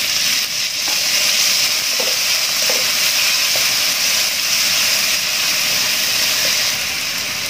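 Onion, tomato and green chili frying in a pan with garlic, a loud continuous sizzle and hiss with occasional light clicks from stirring, no talk.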